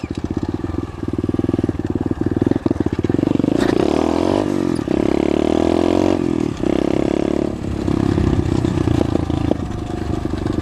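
A pit bike engine runs loud and close while being ridden, its revs climbing and dropping continuously with a rattly, buzzing tone and no voices over it.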